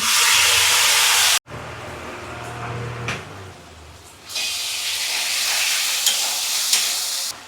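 Spice paste with asafoetida drops into hot oil, a loud hissing sizzle that cuts off abruptly, settles into quieter frying with stirring, then flares into a strong steady sizzle again.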